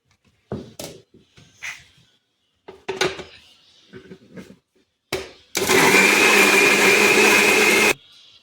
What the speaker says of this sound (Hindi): अब पीस लेंगे ये पालक, पानी नहीं डालेंगे, ऐसे ही पीसेंगे।